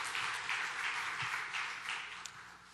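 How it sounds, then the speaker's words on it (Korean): A church congregation applauds together as a faint, steady wash of clapping that fills the whole moment. "큰 박수 해주시기 바랍니다."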